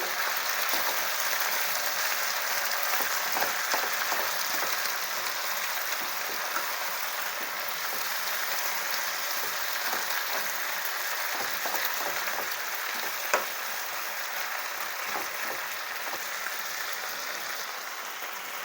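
Gongura (sorrel) leaves softening in a hot pan, a steady, faint, hissing sizzle with scattered small crackles running throughout, no voices.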